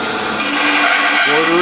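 Saw blade cutting into a wood bottle stopper blank, a loud steady motorized whine that rises as the blade bites in.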